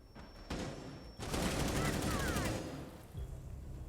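Gunfire in a Rainbow Six Siege match: a sudden dense burst of rapid automatic shots that rings out loudly for a couple of seconds, followed by a fainter shot, with game noise around it.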